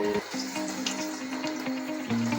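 Breadcrumb-coated chicken pieces for Dhaka chicken going into hot oil, with a steady close sizzle and a few soft clinks and shifts as pieces drop in, no talking.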